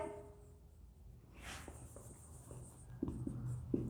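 Marker or chalk writing on a board during an organic chemistry lesson on alcohols, a run of scratchy strokes near the mic, growing firmer and louder toward the end with no talking.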